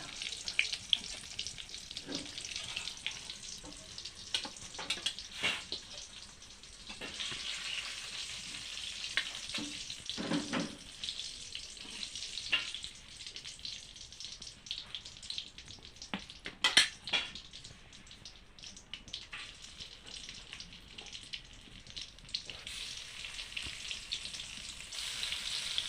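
Sliced eggplant fries in oil in a home Bengali kitchen over a wood fire, a steady soft sizzle with scattered louder pops and crackles throughout, no talking.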